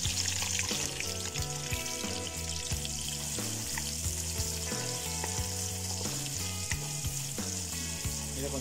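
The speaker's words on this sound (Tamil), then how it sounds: "இதை கொஞ்சம் பொன்னிறமாக வர்ற வரைக்கும் நல்லா ஆனியனை நம்ம வேக வச்சுக்கலாம்." Onions and green chillies fry in a pan for mutton kulambu, a dense, steady sizzle heard close up under a continuous bed of music.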